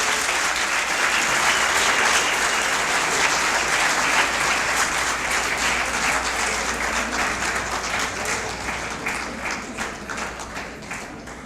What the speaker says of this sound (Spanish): les pido un fuerte aplauso para recibirlo